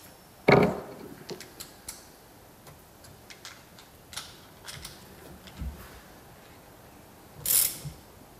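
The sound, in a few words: loosening a bolt on a VW TDI timing belt tensioner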